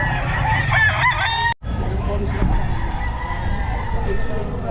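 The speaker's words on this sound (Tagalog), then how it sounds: "Ganda ng mga manok niya," Roosters crow loudly and repeatedly at a busy pet market in Bocaue, close to the listener, with clucking fowl and low crowd murmur underneath and a brief cut to silence partway through.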